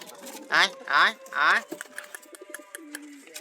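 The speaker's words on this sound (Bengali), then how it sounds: "এখন কি মারামারি লাগিছে কবুতর দুইটা" Two pigeons fight, cooing and fluttering in short, loud bursts, then scuffling more quietly with soft scratchy sounds, close by.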